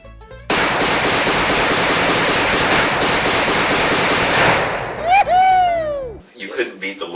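Rapid sustained gunfire from a semi-automatic weapon, a loud dense stream of shots lasting about five seconds, followed by whooping shouts and a whistling cheer as the shooting stops.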